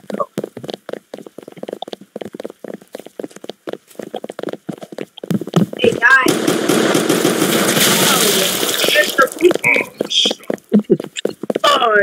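Rapid gunfire in a Roblox game bursts through the later half, a dense, loud rattle of shots following stretches of choppy speech-like sound.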